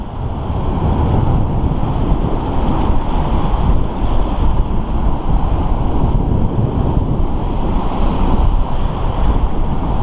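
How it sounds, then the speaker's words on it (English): Ocean surf rolling in steadily as the tide comes in, a continuous loud wash of breaking waves with wind buffeting the microphone throughout. "Man, the tide's coming in now."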